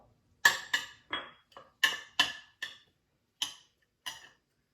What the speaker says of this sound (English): Add our tomatoes for color